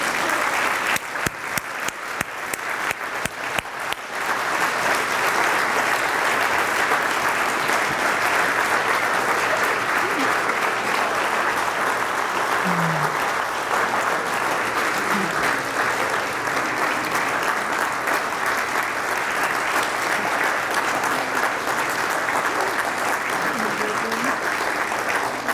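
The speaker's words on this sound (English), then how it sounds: "I'd like you to give her a round of applause." Sustained applause from a church congregation at a minister's ordination, opening with a few distinct claps that swell into a full, even roar of clapping lasting well over twenty seconds, with faint voices mixed in.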